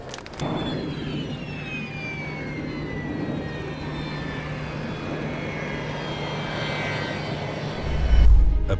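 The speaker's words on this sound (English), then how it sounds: "A bird strike sparked an engine fire on a plane shortly after it took off on April 23, 2023 from an Ohio airport." Jet airliner climbing out of an Ohio airport after a bird strike set an engine on fire, a loud, steady roar with drawn-out falling whines, ending in a heavy thump.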